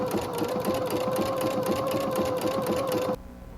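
A home sewing machine fitted with a knit presser foot with a metal bar runs steadily through knit fabric, a loud, even mechanical whir with a rapid stitching rattle that stops abruptly near the end.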